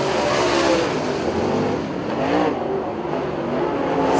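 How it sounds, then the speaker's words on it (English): Super Late Model race cars roar around Port Royal Speedway in a close heat race, a dense, loud, continuous engine drone with rising and falling pitch as the cars run side by side toward the line. "Three-car drag race to the line for that 3rd spot."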